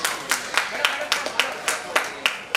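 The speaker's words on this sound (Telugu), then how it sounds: "Big applause get your claps." A group claps at a child's third birthday party, producing a run of even, rhythmic claps, roughly nine sharp beats in quick succession, close and fairly loud.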